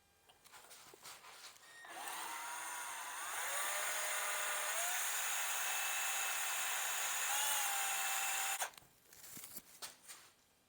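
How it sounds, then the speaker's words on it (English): A power drill whines steadily and loudly for about seven seconds, its pitch dipping briefly under load, with faint handling noises before and after. "this drill ought to give us the most amount of room to work with"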